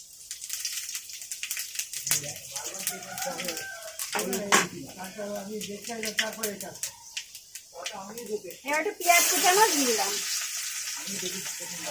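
Panch phoron spices sizzling and crackling in hot oil, close and fairly quiet, with bursts of spattering and brief stirring, under a woman's speech and some bird cooing in the background.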